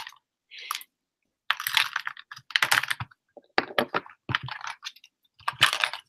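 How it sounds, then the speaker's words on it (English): Bursts of clicky computer-keyboard typing, close and fairly quiet, come in irregular clusters separated by short pauses, with no talking. "I'm here typing hello."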